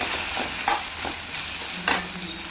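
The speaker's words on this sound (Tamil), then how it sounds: "வெண்டைக்காய்க்கு தேவையான உப்பை சேர்த்து வதக்கிக்கணும்" Steady sizzling of okra sautéing in a pan, with a few sharper scraping stirs of a utensil against the pan.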